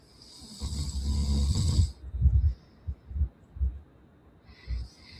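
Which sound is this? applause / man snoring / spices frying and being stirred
man snoring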